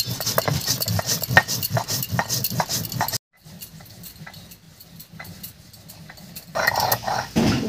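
Cumin seeds ground on a traditional grinding stone, a dense run of close scraping and knocking strokes, a brief pause, then quieter rubbing and a louder burst of grinding at the end.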